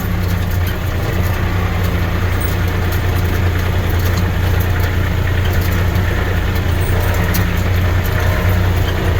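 A tractor engine runs steadily with a low, continuous drone while spreading sand, the rumble holding even and unbroken throughout.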